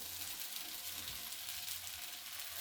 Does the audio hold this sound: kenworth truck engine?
no